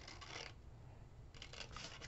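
Scissors snip through a paper decoration in two quick bursts of crisp cutting, close and fairly quiet, with a short lull between them.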